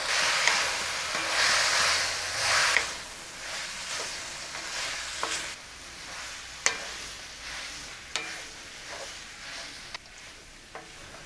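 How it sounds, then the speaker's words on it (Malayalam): About three quarters of a kilo of cooked buffalo meat tipped into a pan of sautéed onions, first a loud burst of sizzling, then a softer ongoing fry punctuated by sharp metallic stirring scrapes and clinks. "നമുക്ക് വേവിച്ച് വെച്ചിരിക്കുന്ന ഈ പോത്തിറച്ചി ഇട്ട് കൊടുക്കാം"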